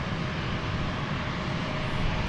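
Steady, loud broadband roar of a jet airplane on the runway at DFW airport, a continuous engine rush with no breaks and no voices.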